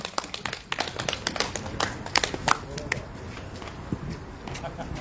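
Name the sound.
audience applause welcoming the speaker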